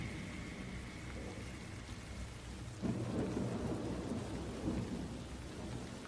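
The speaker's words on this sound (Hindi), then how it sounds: "जंगल में तेज बारिश हो रही थी, हर तरफ पानी की मोटी मोटी बूंदें गिर रही थीं।" Heavy rain pours steadily in a forest, and a deep rumble of thunder rolls in midway and lingers under the downpour.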